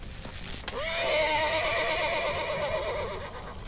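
A horse whinnies loudly in The Walking Dead video game, one long wavering neigh that rises and trembles for about two and a half seconds after a sharp thump.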